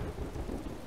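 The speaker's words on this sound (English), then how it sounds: "now it is raining" Steady rain pours over a low rumble of thunder in the video game Skyrim, a dense and continuous wash with no talking.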